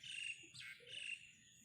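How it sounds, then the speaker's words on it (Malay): Birds chirping outdoors in a quiet, empty spot, bright tweets and short call phrases repeating near and clearly, with no talking over them. "Suara burung ni lagi kuat."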